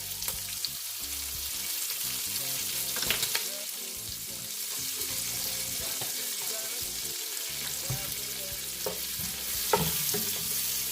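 Beef frying in a pan for sweet onion chili beef, with minced garlic going in: a steady close sizzle with occasional stirring scrapes and clicks, no talking.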